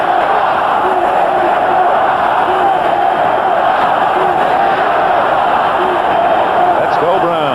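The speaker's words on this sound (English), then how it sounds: "the crowd chanting for Cleveland" A large stadium crowd at a 1982 Pittsburgh Steelers at Cleveland Browns football game chants and roars for Cleveland, a loud continuous wall of voices from a distance.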